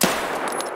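A single gunshot rings out in Escape from Tarkov, one sharp loud crack followed by a short echoing tail that fades within a second.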